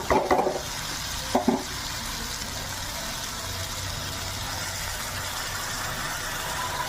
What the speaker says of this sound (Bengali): এসে আমি গরম জল করেছি পাশে, সেটা দিয়ে দিচ্ছি গরম জলটা।